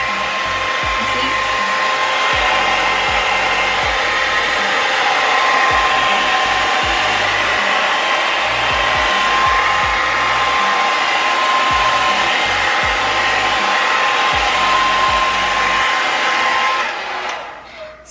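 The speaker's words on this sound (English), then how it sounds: "So I'm just gonna take one shoe and like heat it up" A heat gun blows hot air over a Jordan 1 sneaker in a steady, loud, unbroken roar that drops away abruptly at the very end.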